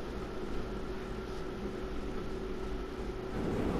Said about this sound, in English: if you guys hear the fan in the background